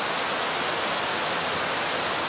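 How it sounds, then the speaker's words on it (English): Cascadilla Falls waterfall rushing in a steady, loud, broadband roar with no break, water pouring continuously close by. "They save the two biggest waterfalls for last."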